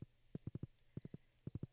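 Horse hooves clip-clop in Stardew Valley, moving in quick bursts of three to four close, distinct steps separated by short pauses, with faint high chimes between.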